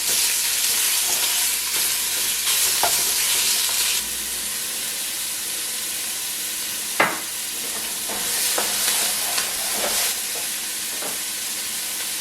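Half a pound of pork sausage sizzles and fries steadily in a pan for jambalaya, a continuous broad crackle with occasional louder pops and spatters, no voices present.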